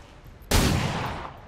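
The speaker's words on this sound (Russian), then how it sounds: "Выстрел из пистолета, противник" A single sharp pistol shot in the video game XCOM 2: War of the Chosen cracks suddenly after a quiet moment, followed by a lingering echoing tail.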